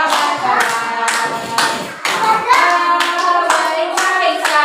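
A group of people, likely children in a classroom activity, clap their hands in quick bursts several times, loud and close, with brief pauses between rounds.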